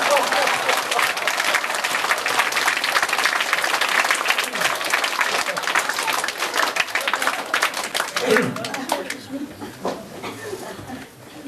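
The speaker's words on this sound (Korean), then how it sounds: "자, 이제 박수를 치면 10초 한번 웃어보세요." A church congregation claps and laughs together at a revival testimony meeting, a dense wash of clapping and crowd noise that thins out and fades toward the end.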